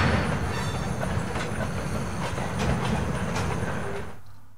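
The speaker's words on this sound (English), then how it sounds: "grab a shot of the train rolling through the Mississippi countryside" A freight train on the Rock Island Rail carrying wind turbine parts rumbles steadily past at close range through Mississippi countryside, a broad roar with wheel clatter, then fades quickly away at the end.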